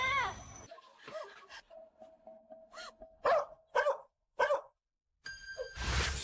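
A village dog in a dramatic scene barks in a series of sharp, separate yelps with short pauses, moderately close, preceded by whining and followed by a burst of other noise.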